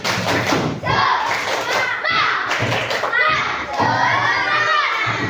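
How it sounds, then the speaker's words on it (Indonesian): Schoolchildren at an elementary school gathering perform a rhythmic spirit clap with loud, busy hand claps and thuds mixed with children's voices chanting and shouting throughout. "Tepuk semangat."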